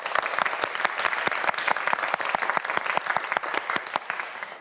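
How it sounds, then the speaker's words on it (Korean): Studio audience on a televised science quiz show clapping for a student contestant, a crisp burst of applause with distinct, rapid claps close by and no talking over it. "양진우 학생에게 큰 박수 부탁드립니다."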